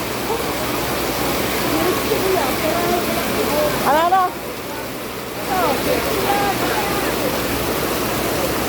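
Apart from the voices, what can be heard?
very heavy rain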